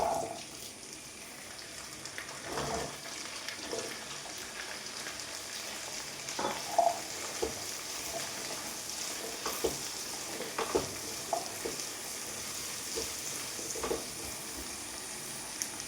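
Whole small shallots fry in a pan for a date curry, a low continuous sizzle punctuated by scattered spoon scrapes and soft knocks as they are stirred, quiet and close with no voices.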